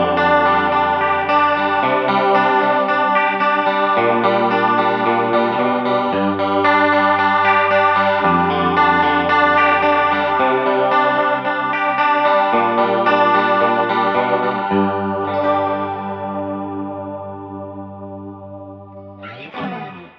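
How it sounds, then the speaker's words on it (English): Electric guitar through a heavy chorus setting on a Line 6 MM4 modulation pedal plays shimmering, wavering sustained chords, loud and alone, fading out before a short final strum. "Here's a pretty heavy chorus that you might recognize."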